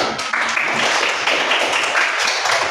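Students in an elementary school classroom clap together in a brisk, close burst of applause that holds steady for a few seconds.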